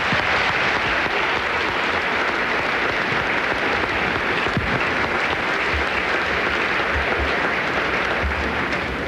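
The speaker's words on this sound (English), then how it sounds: "he deserves a round of applause" Sustained audience applause fills a tennis court at a Cincinnati 1999 ceremony, a dense steady clatter of many hands that holds evenly throughout with no voices over it.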